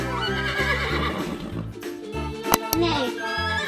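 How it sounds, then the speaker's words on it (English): A horse neighs in a loud, high, wavering whinny among other animal calls, with some vocal sounds mixed in. "Horse."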